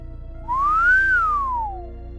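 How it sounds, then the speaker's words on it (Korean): A single drawn-out whistle in a horror radio drama, rising then slowly falling in pitch over about a second and a half, clear and close above a low steady hum. "하지만 대답 대신 또다시 휘파람 소리가 들려왔고"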